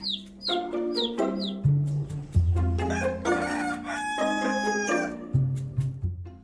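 Several Ayam Cemani roosters crow in a lively overlapping chorus, close by, with hens clucking and chirping in between the calls.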